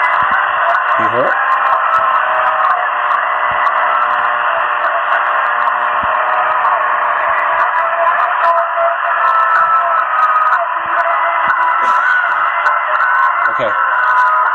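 A song is recovered from audio encoded in reflected ambient light. It plays as a thin, band-limited, radio-like stream of music, steady and fairly loud, with brief glitches and sweeps over a constant hum.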